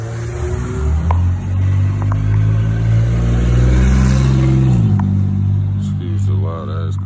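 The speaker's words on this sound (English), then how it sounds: "Excuse the loud ass cars" Loud car engines revving close by in a neighborhood, a deep sustained rumble that swells and shifts pitch, with a person talking over the noise.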